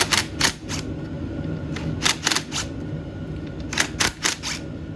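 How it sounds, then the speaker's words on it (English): A hand ratchet clicks while loosening 10 millimeter bolts on the clutch cover of a Honda 300EX ATV, with several close bursts of rapid metallic ticking separated by brief pauses, no talk. "I'm gonna loosen them all first, and then we'll pull them with a regular ratchet"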